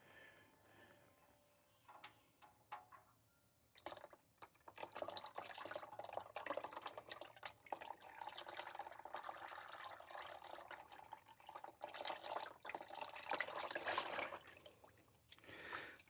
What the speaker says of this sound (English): I'm going to let it drain a little slow like this.